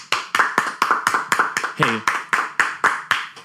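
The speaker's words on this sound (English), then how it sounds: "Y'all give him a round of applause." Hands clap in a sharp, steady rhythm, about a dozen crisp claps in quick succession at close range, while a voice briefly calls out partway through.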